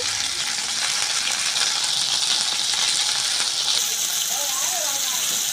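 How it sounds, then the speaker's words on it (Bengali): Jujube (kul) fries in a pan for a chutney, giving a steady, bright sizzling hiss that runs unbroken and fairly loud the whole time. "আমি কুলটাকে দিয়ে একটু ভেজে নেব"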